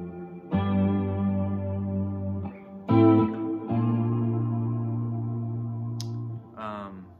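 Sustained guitar chords through a long reverb pedal ring out with a long, washy reverb tail, each strum blooming and lingering before the next.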